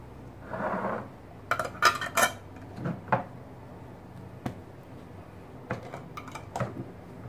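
Glass jars packed with stuffed vegetables being sealed with their lids, giving a series of sharp clinks and clacks in uneven bursts with quiet gaps between, close and moderately loud, no talking.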